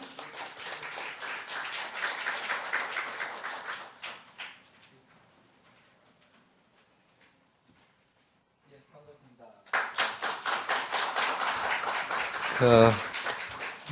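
An audience at a finance industry conference opening ceremony applauds to welcome a lawmaker to the podium: clapping for about four seconds, a quiet gap with small shuffles, then a second loud burst of applause.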